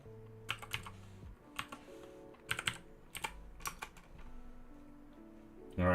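Someone types a password on a computer keyboard in quick irregular bursts of close, crisp key clicks, with short pauses between groups and a louder clack at the end.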